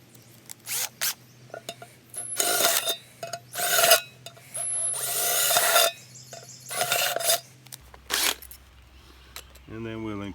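A 3/16 drill bit bores holes for a hobo stove in short bursts of loud, rasping, whirring drilling, separated by pauses with clattering handling noises close by.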